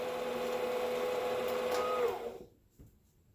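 A sewing machine winds elastic thread onto its bobbin with a steady, fairly loud mechanical whir that rises slightly in pitch before stopping abruptly, leaving near silence with a faint click.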